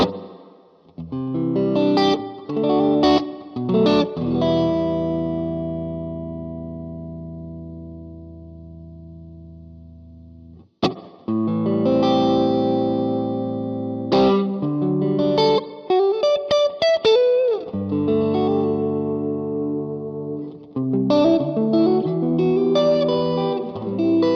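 A Black Country Customs Secret Path reverb pedal in its enhanced spring mode with added modulation, shimmering and wobbling behind loud sustained guitar chords and picked phrases, one sharp spring crash partway through.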